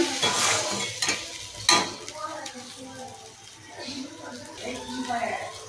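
Spices, including ground coriander and turmeric, are stirred in a pan for a vegetarian kaon millet khichuri, with a soft sizzle, a few spoon clinks against the metal, and someone talking over the cooking sounds.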